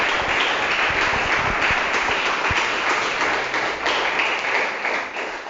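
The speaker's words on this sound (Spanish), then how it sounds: "Dele fuerte su aplauso" A church congregation applauds during a Christian sermon, a dense, sustained wash of many hands clapping that fills the room without pause.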